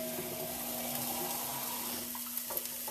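Water runs steadily from a tap in a continuous hiss, with a low hum underneath and a few small clinks near the end.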